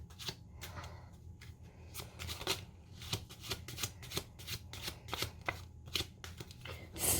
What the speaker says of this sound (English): then you give the deck a shuffle